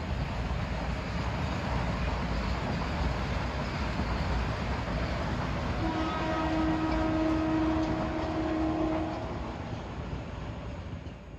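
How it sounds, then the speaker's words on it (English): A Metro-North train 749, running from Grand Central to Croton-Harmon on the Hudson line, passes an old station as a steady, fairly distant rumble with a brief tonal horn-like hum midway, fading toward the end. "About to pass the old station at 5:31 is train 749, Grand Central to Croton Harmon."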